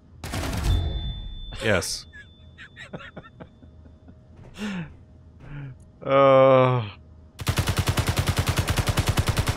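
An automated turret fires in a video game, a rapid evenly spaced burst of shots at the end following scattered game sounds and a short spoken word.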